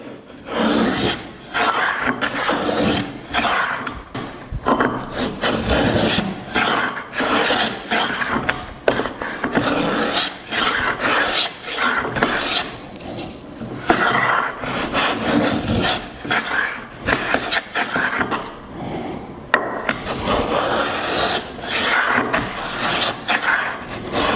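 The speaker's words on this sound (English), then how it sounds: "so I'll use this hollow to create just add to the profile" A hollow moulding plane cuts a profile into wood in steady, continuous rasping strokes that rub and scrape close by, loud and sustained throughout with brief pauses between passes.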